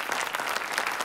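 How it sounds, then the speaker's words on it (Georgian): An audience claps steadily in a short, dense burst of applause, close and even throughout. "ეს აპლოდისმენტების ღირსია."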